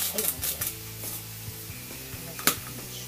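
Ingredients sautéing in a pan, with light seasoning of salt and pepper: a soft continuous sizzle with stirring scrapes and a sharper clack near the end, a voice speaking faintly over it.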